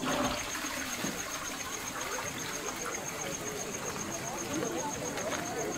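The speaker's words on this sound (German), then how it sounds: "Die Klospülung im Ranger Camp signalisiert für diesen Kleinen, da ist Wasser" A toilet flushes at a ranger camp, a continuous rushing and trickling of water heard close by, with a steady high insect-like whine over it throughout.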